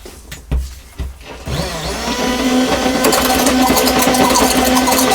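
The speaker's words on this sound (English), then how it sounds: "let's stir it up" Five grams of Opax are stirred into a test ceramic glaze mix. After a few knocks, a mechanical mixer starts with a whirring whine that grows louder and steadier as it keeps running.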